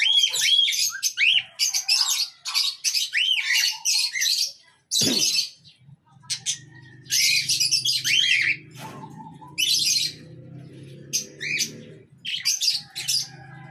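Young birds from breeders chirp and squawk in bursts of high tweets, close and lively, with short pauses and a low thump midway.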